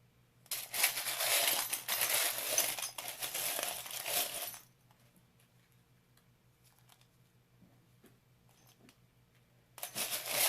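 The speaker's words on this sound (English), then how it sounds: "Let's get some charms for you guys." Small metal charms clink and rattle together as they are mixed by hand, a close, busy jingle lasting several seconds, followed by a pause and then another short burst of mixing.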